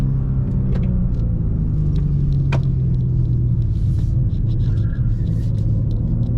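A BMW M2 G87 sports car is being driven hard with its tires spinning, heard as a steady, loud low engine drone and rumble that holds evenly throughout.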